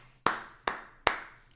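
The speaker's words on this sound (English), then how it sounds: "Clap it up for me." Three sharp, close hand claps land at an even, unhurried pace, each one a crisp slap that fades quickly into quiet.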